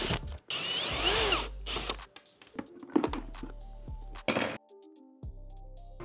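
Power tool working on the airbox of a Suzuki RM250 motorcycle, a loud whirring burst at first, then shorter bursts, ratcheting clicks and mechanical clatter, close and alone.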